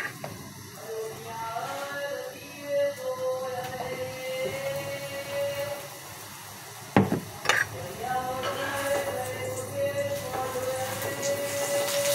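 Oil hisses and sizzles steadily in a pan as naan fries on a home stove, a continuous crackling wash with a few louder clatters from the cookware midway.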